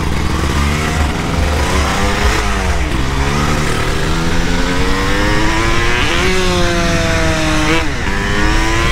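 A Yamaha DT 200 motorcycle revs hard and accelerates close by, its buzzing engine note climbing steeply and then dropping at each gear change, loud and continuous throughout.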